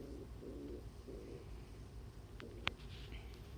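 A pet bird named Bird coos softly indoors, several low, breathy murmurs in a short series with a brief sharp chirp-like tick near the end.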